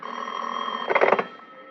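A telephone bell rings in a radio drama, a sustained tone with a louder burst of rattling rings near the end, then fading, with no voices.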